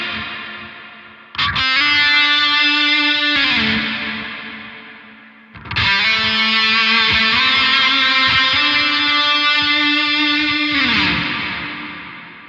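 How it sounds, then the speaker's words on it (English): Electric guitar played through distortion pedals with a noise gate, two loud sustained distorted chords that ring out and fade, with the gate cutting the background noise between them. "now it's really just the notes and not the noise from the pedals."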